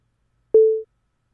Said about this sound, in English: a simple synth def, which generates a sine wave, pans it in the stereo field